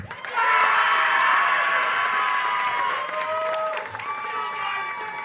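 A graduation commencement crowd cheers and applauds loudly and steadily, with whoops and shouts over continuous clapping that swells quickly and holds for several seconds.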